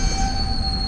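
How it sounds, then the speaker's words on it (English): A passing train in Mexico City squeals loudly with steady high-pitched wheel screeches held throughout, close by over a low rumble of the rail cars. "I've only been blocked by this train before. I've never seen it coming in."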